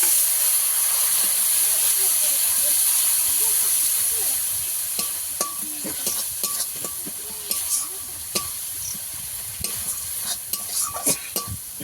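Turmeric, chilli powder and cumin frying together in a pan, a loud hiss and sizzle that eases as water goes in, then gives way to bubbling, scattered sharp clinks of a stirring spoon and softer spattering.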